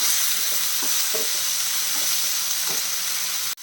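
Tomatoes sautéing in a pan for chutney give a steady, close sizzle and hiss, with occasional soft stirring scrapes through the sizzle, and no voices.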